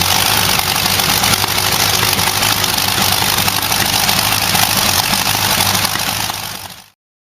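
An Allison V12 V-1710 aircraft engine runs steadily at a loud, dense roar close by, holding an even drone for several seconds before cutting off abruptly.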